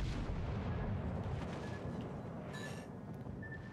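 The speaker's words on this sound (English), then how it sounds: "If I get a decent salvo here, I can probably kill this guy with one shot." A battleship's gun salvo booms in World of Warships Legends as a heavy, sustained low rumble that fills the entire stretch, with no distinct separate shots.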